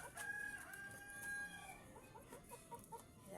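A rooster crows faintly and at a distance, a thin drawn-out call heard alongside soft clucking from other chickens, all very quiet.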